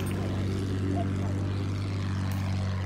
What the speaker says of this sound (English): There are two planes up.